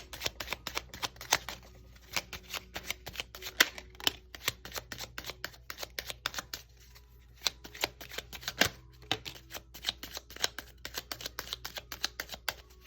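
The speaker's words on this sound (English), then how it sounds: "let's just pull some affirmation cards for you" A deck of affirmation cards being shuffled, a steady run of quick papery riffling clicks and flutters that carries on for several seconds, close and fairly quiet, with no talking.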